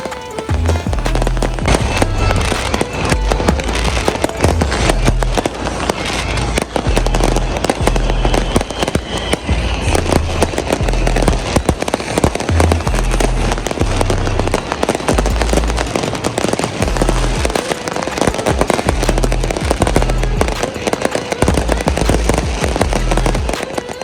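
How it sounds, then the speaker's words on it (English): Continuous crackling and booming New Year's Eve fireworks in Cairo, many overlapping bursts and pops in a dense, loud, nonstop barrage. "appreciate all the random firework displays with the pyramids as a backdrop"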